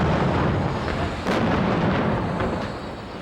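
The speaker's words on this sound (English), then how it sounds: "they used ignition systems to create the explosions" Staged propane explosions on a film set: a sustained, roaring blast of fire rumbles loudly and steadily for several seconds, with a brief sharper burst partway through.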